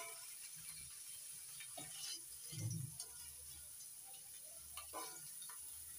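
Pieces of paneer fry lightly in a pan of oil, giving a faint, steady sizzle with occasional scrapes and clicks of stirring, quiet and close, with no speech.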